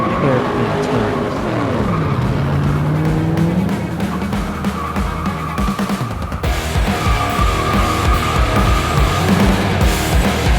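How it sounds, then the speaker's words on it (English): Car speeding at around 110 miles per hour on winding hairpin turns, its engine roaring and rising in pitch while the tires squeal, loud and continuous throughout the clip. "he slammed his foot on the gas, hitting 110 miles per hour as they squealed around hairpin turns"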